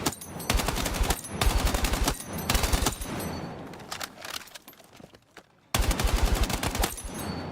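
Automatic gunfire in the RoLC video game, long rapid bursts fired close and loud, a short pause with quieter shots and movement, then another sustained burst.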